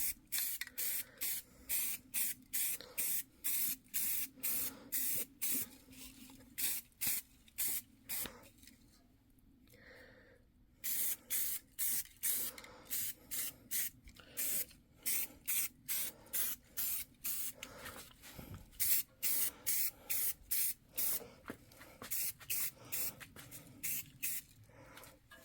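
Repeated short bursts of an aerosol spray can laying light coats of paint onto a stock Buick air cleaner, rhythmic hissing pulses with brief pauses, close and steady, no talking.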